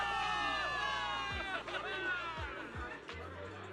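A crowd of soldiers in the video game Zenless Zone Zero cheers in a loud, dense mass of shouting voices, close and continuous, with a few low thuds underneath.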